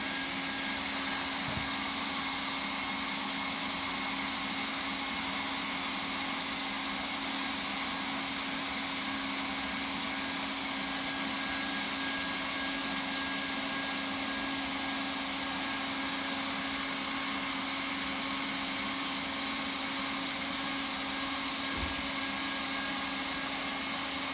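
A hot air welding gun blows heat onto a vinyl sheet flooring rod and seam groove, making a steady, even, fan-like hiss and hum that runs unbroken the whole time, with no talking.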